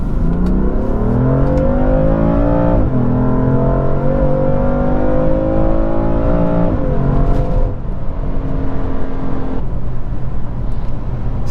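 A BMW M3 accelerates hard up a highway on-ramp, its engine note climbing steadily through the gears with a brief dip at each shift, loud and close from inside the cabin.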